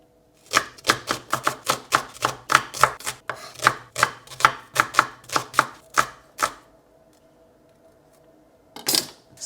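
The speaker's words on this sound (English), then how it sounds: "I'm just going to roughly chop 1 onion as well." Knife roughly chopping an onion on a board, about twenty crisp, evenly paced chops close to the mic, then a pause and a final quick burst of cuts.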